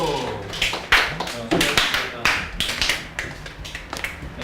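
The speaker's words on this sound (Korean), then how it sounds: "자, 박수" A classroom of interpreting students claps briefly, with a handful of uneven, separate hand claps rather than a full ovation, fairly close and dry, with a little background murmur.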